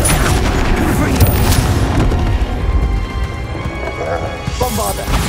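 Confringo fire spell exploding in Hogwarts Legacy, a dense run of booming blasts and crackling impacts that stays loud throughout the clip amid game battle noise.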